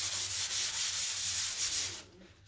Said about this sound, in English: I'm just going to go ahead and lightly sand this.